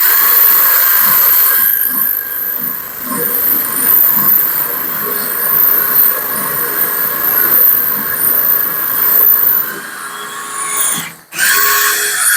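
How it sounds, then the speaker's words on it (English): A power drill whines continuously for several seconds at close range while drilling holes during a bathroom refurbishment, briefly cutting out near the end before starting again. "Just let the drill do the work."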